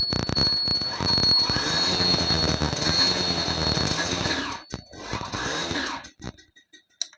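A 2012 TVS XL heavy duty moped engine starts and runs with a loud, continuous rough mechanical roar, then sputters and drops away into uneven bursts toward the end; no talking.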